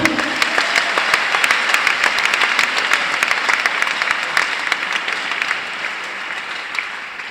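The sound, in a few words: congregation applause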